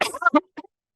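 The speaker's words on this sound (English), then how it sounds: "me coughing all the time" A single close, dry cough followed by a short throat-clearing grunt, then silence.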